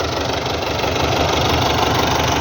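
A Belarus 510 tractor diesel engine running steadily at a low, throbbing idle, loud and close, with a constant rhythmic knock and no voices.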